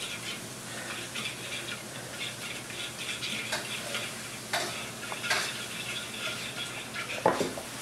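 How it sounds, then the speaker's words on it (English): A whisk stirs black pepper and lemon juice together for a Caesar salad dressing, soft, fairly faint ticking and scraping strokes in an uneven rhythm, alone without talk. "I'm gonna start whisking that together."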